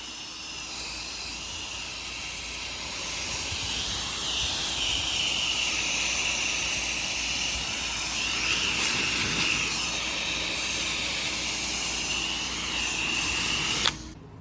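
A pressure washer rinses algae off a small outdoor outhouse with a steady, loud spray hiss and engine drone that runs almost unbroken for about fourteen seconds before cutting off abruptly, with no talking.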